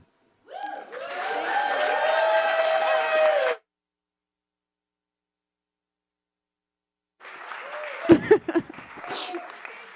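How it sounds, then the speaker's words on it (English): Audience applause at a live show breaks out near the end after a long silence, a dense close wash of clapping with a few sharp louder claps, preceded by an unrelated sustained tonal passage. "Keep that a round of applause going while I compose myself."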